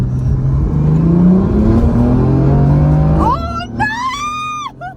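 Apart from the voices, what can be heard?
BMW M4 accelerating in a roll race against a tuned GTR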